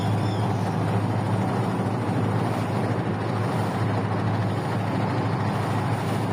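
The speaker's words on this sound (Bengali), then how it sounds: "ট্রলার গুলো যাচ্ছে ছুটে" Trawler boats motor along a village river, giving a steady low engine drone with a broad rushing wash of water and wind over it, continuous and fairly distant, with no voices.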